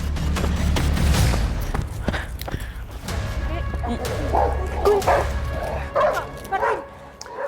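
Dog pulling on its leash and charging at other dogs in their garden, giving a series of sharp barks and yips that grow more frequent toward the end, with a person talking over it.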